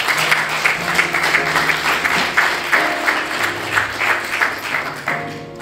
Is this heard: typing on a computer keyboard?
no